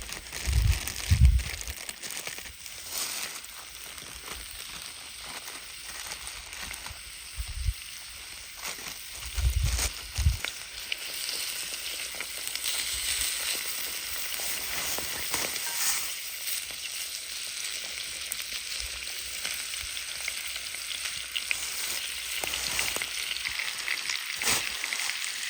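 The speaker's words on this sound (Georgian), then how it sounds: "დავუმატებ კარაქს." Butter sizzling and frying in a pan during outdoor cooking on a huge boulder, a steady crackling hiss with occasional stirring scrapes and crinkles throughout.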